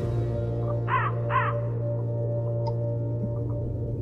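Crows caw twice in the Qora video game, two short harsh calls close together near the start, over a steady low ambient drone with faint ticks afterward.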